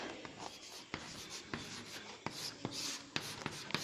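Chalk or marker scratching on a board while working a math problem on squares, a quiet run of short strokes and taps in an irregular rhythm, with no voice.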